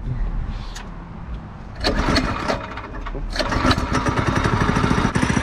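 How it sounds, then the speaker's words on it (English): A go-kart engine is cranked and catches, sputtering through a few rough tries before settling into a loud, rapid, close putter, with faint talk in the background. "I will start the go-kart for you."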